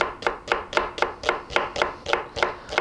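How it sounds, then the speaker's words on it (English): A knife slices organic onions on a cutting board with about a dozen crisp, evenly spaced chops in a steady rhythm, heard up close with no talking. "Now, I place my core away from me and I'm going to cut it up."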